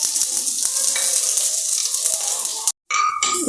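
Curry leaves and dried chillies frying in hot oil in a home kitchen, giving a steady loud sizzle and crackle with small pops, briefly cut off, then resuming alone without talk.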